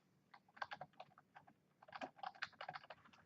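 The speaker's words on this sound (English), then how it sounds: "I'll do a lot of typing now." Quiet, rapid keystrokes tap on a computer keyboard in uneven bursts, close up, with short pauses between runs of typing.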